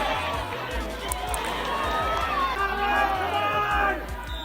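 A crowd of spectators at a junior hurling match cheers and shouts, with excited voices rising and falling. An energetic commentator talks over the crowd noise throughout.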